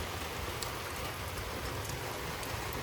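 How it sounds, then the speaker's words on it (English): Steady rain pours down in a strong thunderstorm with gusting wind in Frisco, Texas, a continuous close hiss of drops hitting surfaces with no voices. "The rain's blowing kind of sideways, but not as much sideways."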